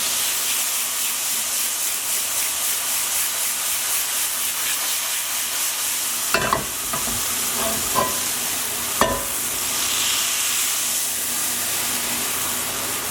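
White wine sizzles and steams in a hot pan while shrimp scampi cooks. A steady hiss runs throughout, and a few sharp clinks and scrapes of stirring come through near the middle.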